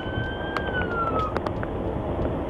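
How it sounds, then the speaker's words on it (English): A police car siren wails in the distance, a faint falling tone over steady traffic rumble, with brief clicks and no talk. "That's the sound of the police."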